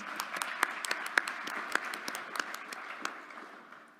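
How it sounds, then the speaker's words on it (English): Audience at a Bernards Township candidates forum applauding, a thin scattering of claps in a hall, moderately distant and fading out toward the end. "Let's get another round of applause."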